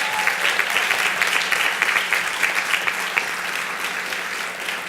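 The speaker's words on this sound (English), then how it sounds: "Let's give them another round of applause." Sustained audience applause for award winners at a Hispanicize 2014 Positive Impact Awards ceremony, a dense steady wash of many hands clapping at even loudness throughout, with no speech over it.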